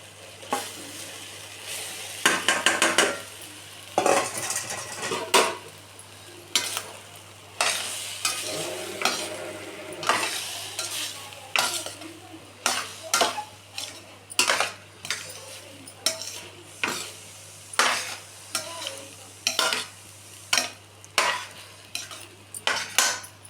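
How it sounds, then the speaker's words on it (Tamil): Cooked rice is stirred into a village-style tomato gravy made with country tomatoes in a pan, with repeated rhythmic scraping and clinking strokes over a low, steady sizzle for a long stretch, close up and with no talking. "சாதத்தை போட்டு கலரிக்கிறோம்."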